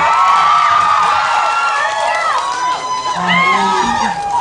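A Korean cinema audience at a post-screening talk with the cast of the film Ansiseong cheers and screams loudly and continuously, high-pitched voices rising and falling throughout.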